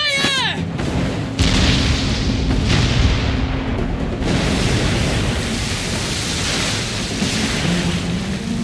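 Cannon fire in the video game Like a Dragon: Pirate Yakuza during a naval battle, heavy booming blasts over a sustained rumble of crashing sea and noise, loud and continuous, with a brief whooshing effect at the start.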